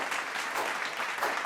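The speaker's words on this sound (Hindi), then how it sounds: "तो आइए जोरदार तालियों से इनका अभिनंदन करते हैं सभी आरडी अचीवर्स का।" A brief, dense burst of clapping greets achievers at a national achievement day celebration, a steady wash of many hands held at an even level throughout.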